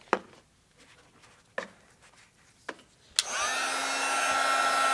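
A handheld embossing heat tool switches on and blows hot air over stamped embossing powder for a holiday tree card, a steady loud whoosh after a few soft taps and rustles.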